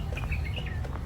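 Several birds chirp and tweet in quick, high, repeated calls in Dubai, UAE, over a low, steady background rumble.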